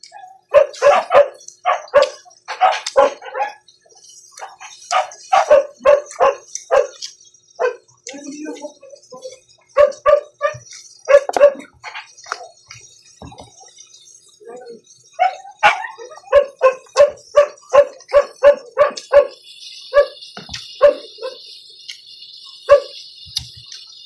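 A dog barks repeatedly in rapid bursts, loud and close, with short pauses between volleys and some whimpering yips.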